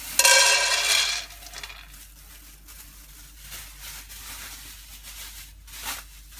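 Dehulled beans pour into a thick frying pan, giving a bright, dense rattling patter for about a second, then fading to faint scattered clinks and stirring scrapes.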